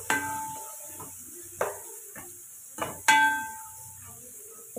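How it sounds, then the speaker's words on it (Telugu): A spoon scrapes and clinks against a pan while green chillies and curry leaves are stirred into fish curry, a few sharp metallic strikes spaced over a faint sizzle. "అంటే మనం కట్ చేసి పెట్టుకుని పచ్చిమిరపకాయలు, కరివేపాకు వేసి ఒకసారి కలపాలి."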